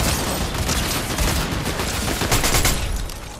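Dense gunfire in the video game Fortnite crackles as continuous, loud overlapping bursts that fill the whole stretch without a break, with no talking.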